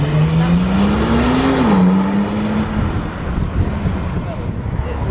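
A Porsche 911 Turbo S at the Beaulieu Supercar Weekend pulls away past the listener, a loud steady engine note rising then easing off, with wind buffeting the microphone and people talking nearby.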